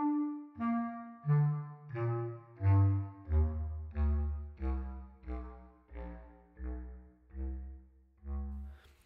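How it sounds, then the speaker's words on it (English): Bass clarinet from an orchestral sample library: about a dozen deep, reedy notes played one after another, stepping down then partly back up in range, each swelling and fading cleanly, with no voices. "Bass clarinet, very nice range there."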